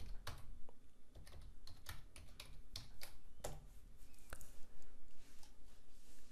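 Someone typing a search query on a computer keyboard, a quick irregular run of crisp key clicks close to the microphone, quiet and with no talking.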